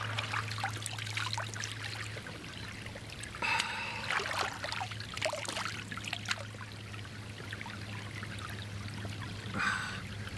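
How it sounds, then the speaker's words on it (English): Quick-moving water in an Australian bush stream pours and trickles steadily and faintly, with a few louder splashes and gurgles breaking through the constant flow. "it's pretty quick moving water"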